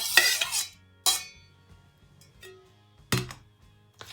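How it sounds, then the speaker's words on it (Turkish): A spoon clinks and scrapes in a bowl in a few distinct bursts with quiet gaps between them, folding fruit pieces into cream for a peach cake, close and alone without talk. "Ve kremayla karıştırıyorum"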